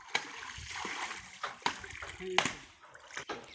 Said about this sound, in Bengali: মা ডালা দিয়ে স্নান করে দিচ্ছে